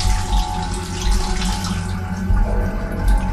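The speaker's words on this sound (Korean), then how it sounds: "확실히 샤워 소리도 아직 지속되고 있다" A shower runs in the apartment next door in a quiet residential building, a steady, fairly loud hiss of spraying water continuing throughout with no talking.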